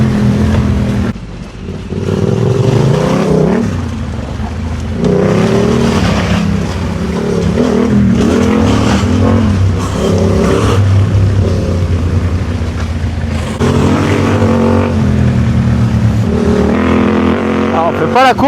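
Off-road vehicle drives a rough track with roots, bumps and stones, its engine droning and rising and falling with throttle, jolts and rattles mixed in, while people talk over it.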